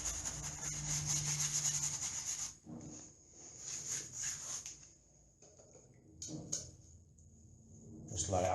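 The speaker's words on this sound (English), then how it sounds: "just rub it in underneath any edges of paint if there's any emulsion left on" Damp cloth rubbing thinned PVA into plaster beneath peeling paint edges on a ceiling or wall, a close, steady scrubbing that breaks into shorter strokes with brief pauses.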